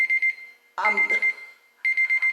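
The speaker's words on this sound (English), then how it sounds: "I can't see the timer, but it's going to ring" Kitchen timer alarm going off after a three-minute countdown during a quick makeup routine: rapid electronic beeping in short bursts, loud and close, broken by a stretch of talking before the beeping resumes.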